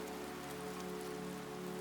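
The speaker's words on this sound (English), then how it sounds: "A light drizzle fell over the cobblestone streets of Seattle." Light drizzle falls on city cobblestone streets at night as a soft, even patter that holds steady and quiet for a couple of seconds, with no voices.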